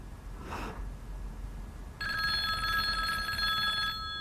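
A telephone rings in an indoor scene, a steady electronic ringing tone that starts about halfway through and continues to the end, clear and fairly loud over a quiet room.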